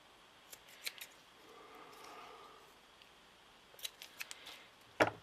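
Scissors trimming paper while binding a book, a few faint, scattered snips and rustles in a quiet room, ending with a sharper louder cut.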